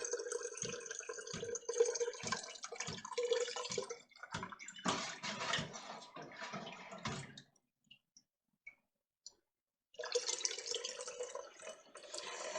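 Tap water runs into a pot being filled for turkey broth, a quiet splashing stream that pauses briefly before flowing again, faint and close, with no talking.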